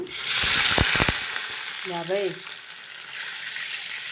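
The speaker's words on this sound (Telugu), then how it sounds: "నెక్స్ట్ వచ్చేసి వాటర్ పోస్తున్నా." Water poured into a hot pan of frying semiya upma tempering sets off a loud, hissing sizzle that surges at once and then settles into a steady bubbling hiss, with a few clinks early on.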